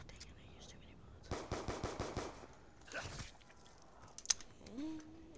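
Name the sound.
gunfire in the video game Call of Duty Die Rise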